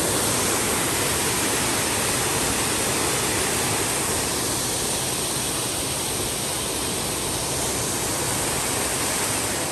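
Loud, steady rushing water in the White Mountains, a continuous broadband roar like a waterfall or fast stream that fills the whole scene without pause.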